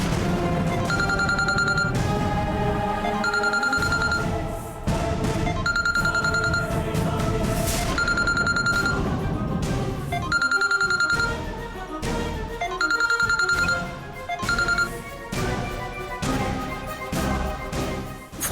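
A telephone rings with repeated electronic ring bursts over a loud, busy backing of music in a domestic scene from a Bhojpuri television serial.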